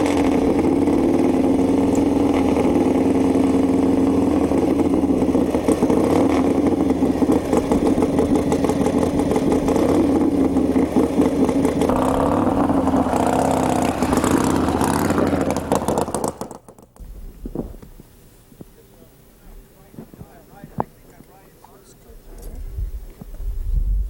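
A land speed record-holding Harley Davidson motorcycle runs on the Mirage Dry Lake bed in the Mojave Desert, its engine loud and throbbing with revs for about sixteen seconds before cutting out to quiet, with a voice at times over it.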